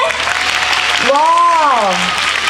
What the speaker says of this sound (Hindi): आप उनके लिए तालियां बजा सकते हैं।